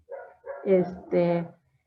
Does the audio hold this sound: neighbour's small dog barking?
yes